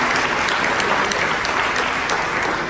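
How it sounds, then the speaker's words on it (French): A gala audience bursts into loud, sustained applause, a dense wash of many hands clapping steadily and close by, with no voices over it. "il faut vraiment les applaudir"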